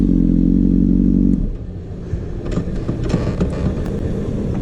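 A motorcycle engine holds a loud steady drone that drops abruptly after a second, giving way to a rougher, fluctuating rumble with clattering, heard close with no talking.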